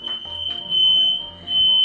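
Smoke detector alarm blaring in a home kitchen during Thanksgiving cooking, a loud steady high-pitched tone sounding throughout with pulsing background noise and no talking.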